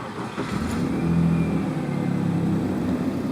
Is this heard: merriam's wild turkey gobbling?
no